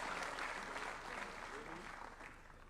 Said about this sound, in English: A round of applause for Murimi one more time.